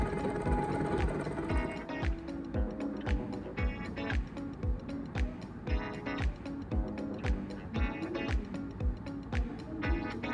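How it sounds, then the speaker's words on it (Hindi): Household sewing machine stitching a strip on a pajama kurta, a rhythmic series of clacking stitch bursts repeating steadily, close and fairly loud. "जो मैंने कट दिया है उस तक थोड़ी दूरी पर इसकी स्टिच लगाऊंगी।"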